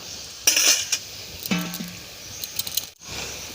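Marinated chicken for a yogurt chicken curry drops into a pan of browned fried onions, with a clattering burst of metal utensils against the pan, a soft sizzle and further clinks and scraping.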